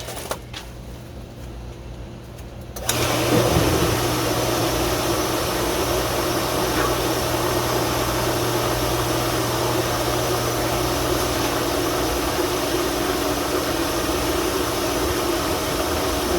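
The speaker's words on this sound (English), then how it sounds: "let's put the pump on" A pool pump kicks on around three seconds in, jumping from quiet to a steady, loud motor hum with vibration that runs on unchanged; it serves a Pentair MasterTemp 400 heater with a banging, knocking fault.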